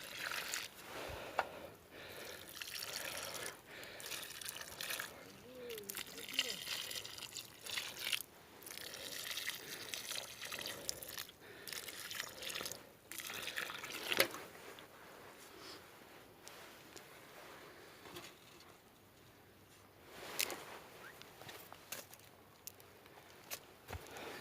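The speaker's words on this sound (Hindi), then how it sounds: "अब इसको हम पानी दे देंगे।" Water poured onto a newly planted cherry tree, faint splashing and trickling into soil that comes in irregular bursts with pauses, alongside occasional soft knocks and handling sounds, without talking.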